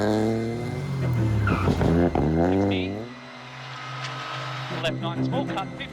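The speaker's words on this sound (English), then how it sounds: "the crews get the opportunity to test their Ford Fiesta Rally 3 cars on closed roads" Ford Fiesta Rally3 car on a closed test road, its engine revving in rising sweeps and tires squealing as it skids, loud and close before fading, with a voice talking over it.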